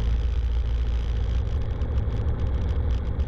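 A Cessna 172 single-engine plane's engine held at 1700 RPM during a ground run-up, a loud, steady, close propeller drone that continues unbroken.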